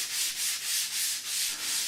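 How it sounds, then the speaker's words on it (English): Rhythmic back-and-forth sanding strokes on drywall mud over seams in a garage workshop, a steady scratchy hiss rising and falling in regular pulses, close up with no voices. "then lots of sanding"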